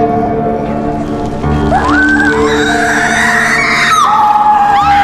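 A woman screams in terror during a tense Silent Hill horror-film scene: a loud, sustained, wavering shriek that rises and falls over a dense, droning music score.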